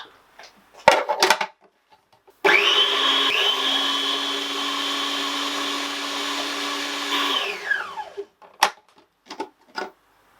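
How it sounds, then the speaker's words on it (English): A kitchen blender whirs through a batch of homemade bacon jam, a loud steady motor drone lasting about six seconds before spinning down, framed by a few knocks and clatters of handling before and after. "see how this blending up goes"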